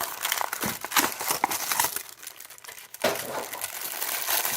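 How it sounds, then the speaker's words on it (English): Paper packaging around a Hasbro Marvel Legends Attuma build-a-figure wave action figure crinkles and rustles nearly nonstop during unboxing, close and fairly loud, with dense bursts of crackling and a brief lull before it picks up again. "sorry for the paper noise"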